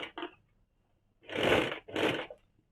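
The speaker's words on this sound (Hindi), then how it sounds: "लेस के ऊपर धीरे धीरे सिलाई चला के इस प्रकार से पूरा गोलाई में कवर करना है।" A sewing machine stitches white lace onto a kaftan nightie. It runs in two quick short bursts, pauses, then gives two longer whirring runs, close and alone.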